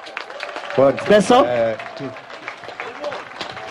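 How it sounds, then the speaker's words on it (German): An audience claps hands in applause, a dense patter of many hands, alongside a loud voice speaking German over it, followed by scattered claps as the sound thins out. "Sollen wir die Hände aus der Tasche nehmen und klatschen?"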